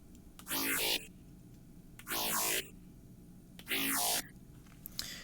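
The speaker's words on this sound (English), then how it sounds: "the Serum preset, or the Serum sound that I use sounds like this." A growling colour bass synth patch from a Serum preset plays three loud, separate sustained notes, each with a sweeping, arching formant sound, with brief gaps of quiet between them and no voices.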